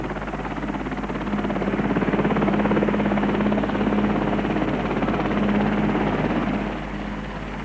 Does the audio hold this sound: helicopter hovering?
yes